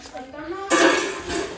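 Metal utensils clatter and clink loudly for about a second, a busy burst of scraping and knocking with a voice in the background.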